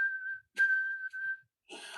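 A person whistles in imitation of a white-throated sparrow's song: clear, steady pure tones held in two long phrases, then a brief breathy burst at the end, close and alone.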